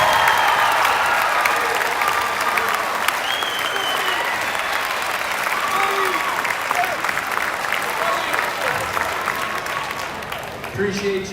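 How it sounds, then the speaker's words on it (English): Sustained audience applause fills an arena during Tyrese Haliburton's jersey retirement ceremony, with a Sacramento Kings team present; steady, dense clapping from a large crowd continues throughout, with a voice faintly over it. "How about one more round of applause for the Sacramento Kings for making the trip tonight?"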